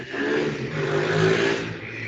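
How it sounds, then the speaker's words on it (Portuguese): A motorcycle passes outside during a council voting session, its engine a steady, fairly loud drone that swells a little midway and eases off, with no one talking. "Esperar o barulho de uma moto aqui, você deve ter ouvido."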